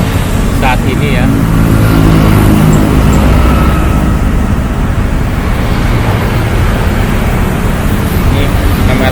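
Busy road traffic of cars and motorcycles rolls past in a continuous wash of engine and tyre noise, steady and fairly loud from start to finish.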